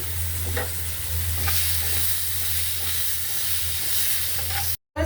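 Cauliflower sizzles in hot oil with turmeric, chili powder and salt, a steady close frying hiss with faint stirring scrapes and a low hum under it, cut off briefly near the end.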